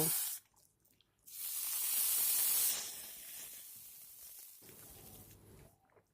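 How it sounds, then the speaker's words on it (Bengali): Boiled cucumber dropped into hot oil with tempered spices in a pan gives a sudden loud hissing sizzle that swells for a couple of seconds, then settles into a quieter bubbling fry. "ফোড়নের কালারটা চেঞ্জ হয়ে গেলে এবারে সিদ্ধ করে নেওয়া শসা তরকারির মধ্যে দিয়ে দেব"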